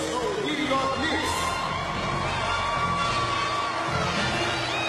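An arena crowd cheers and whoops for the New York Knicks cheerleaders, a dense, continuous roar of voices at steady loudness with shouts poking through.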